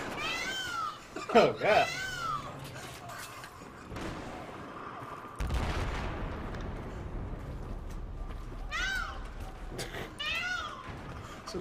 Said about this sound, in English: The sweet call of a peacock.